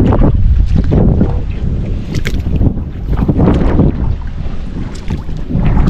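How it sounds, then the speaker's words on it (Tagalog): Strong wind roars and buffets the microphone continuously, with rushing gusts swelling and easing, like being out on open water in a blustery breeze. "Lakas na hangin."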